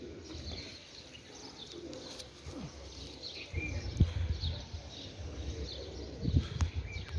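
Pigeons cooing on a rooftop loft, soft low coos and bird calls repeating at a moderate distance amid faint background noise and occasional rustling.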